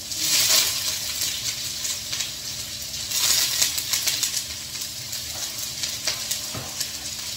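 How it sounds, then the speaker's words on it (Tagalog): Onions fry in a pan for bihon guisado, a Filipino noodle dish, with a steady close sizzle and crackle broken by occasional scraping and clinking, and no talk. "Lagay na natin yung sibuyas."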